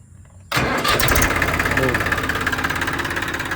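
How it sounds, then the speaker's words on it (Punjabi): A Massey Ferguson 241 tractor engine cranks and catches abruptly, then settles into a loud, steady running rumble with a rapid knocking pulse. "ਥੋੜੀ ਸਟਾਰਟ ਕਰਕੇ ਚੈੱਕ ਕਰਾਉਨੇ ਆਵਾਜ਼ ਟਰੈਕਟਰ ਦੀ ਕਿੱਦਾਂ ਦੀ ਹੈ"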